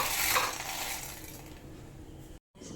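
Roasted black peppercorns scraped and tipped from a hot pan into a vessel, a close, continuous dry rattle and scraping with faint sizzle that fades before a brief silence.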